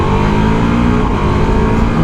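Ducati Multistrada V4S motorcycle accelerating hard in sport mode, a loud continuous engine roar with rising revs heard up close from the rider's position, with no voices.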